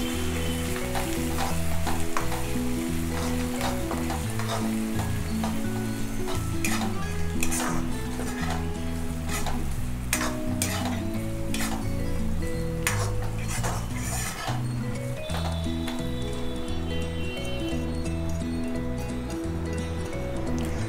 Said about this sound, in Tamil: வெங்காயத்தை சேர்த்துட்டு நல்லா வதக்கிக்கலாம்.